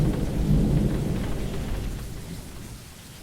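Thunder rumbles low and steady with rain falling during a San Antonio thunderstorm, loudest early and slowly fading over a few seconds, with no voices.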